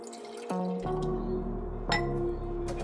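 Soy sauce poured into a jar with ketchup and mayonnaise for a salad dressing, giving a soft glugging trickle and a few light glassy drips, close and quiet with no one talking.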